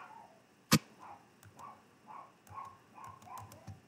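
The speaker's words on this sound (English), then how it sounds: "my dogs are going crazy" Dogs bark indoors in a run of muffled, fairly distant yaps, roughly evenly spaced, after one sharp loud click near the start.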